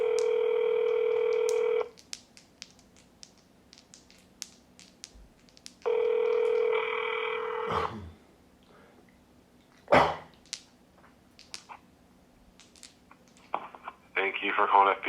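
Telephone hold-transfer tones play while a caller waits on a line to the FBI, with two loud steady tonal bursts several seconds apart, faint clicks and a dog barking in between, and a final brief tone near the end.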